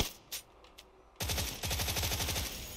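Rapid automatic gunfire in the console battle-royale game PUBG, loud and close, bursting in after a quiet second and continuing in fast repeated shots to the end.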